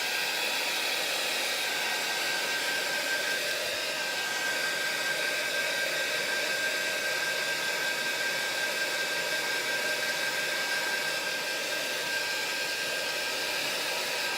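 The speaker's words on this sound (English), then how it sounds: "excuse me while I put the dryer on for a minute" A hair dryer runs steadily the whole time, a loud continuous whoosh of air with a faint whine, no voices.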